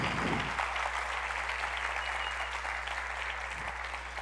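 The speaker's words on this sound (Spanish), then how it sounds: "Démosle un aplauso, Señor, hermanos." A congregation applauds, producing a steady, even wash of clapping that holds for several seconds at moderate loudness over a low constant hum, with no talk.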